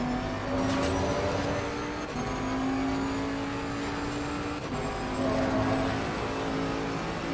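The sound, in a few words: Bentley GT3 race car engine in Assetto Corsa Competizione video game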